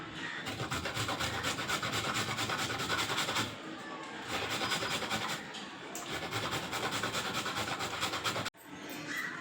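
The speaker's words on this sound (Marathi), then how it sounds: "चला पटपट आपण गाजर किसून घेऊयात।" Carrots are grated by hand for carrot halwa, producing continuous rhythmic rasping scrapes close up, in long bursts separated by brief pauses, with a sharp knock near the end.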